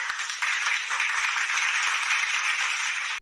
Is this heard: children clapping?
yes